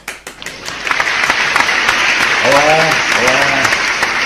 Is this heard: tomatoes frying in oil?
no